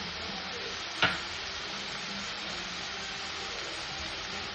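Tomatoes and cashews sizzle steadily in hot oil in a pan, a constant close frying hiss with one brief clink near the start and no talking.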